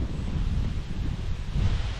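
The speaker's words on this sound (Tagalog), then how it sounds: "Medyo mataas lang ang hangin." Strong morning wind gusting steadily across a vegetable garden, a continuous low rushing roar buffeting the microphone with no voices.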